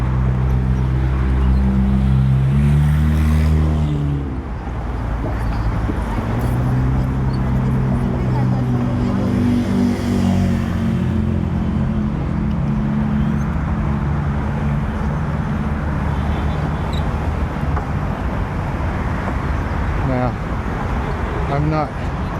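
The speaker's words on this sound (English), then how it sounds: "there's also the constant traffic noises, because you've got the BQE that way, got traffic on both sides of the bridge here" Constant traffic hums beneath the Brooklyn Bridge and from the BQE nearby, a loud, steady low roar of passing vehicles with people's voices mixed in.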